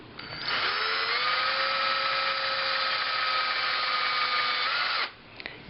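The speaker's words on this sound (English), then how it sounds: "You hold on to the clamp, you hold on to the drill, you start drilling." Close, steady whine of a power drill twisting clamped book pages for about five seconds, pitch rising slightly at start, then stopping abruptly.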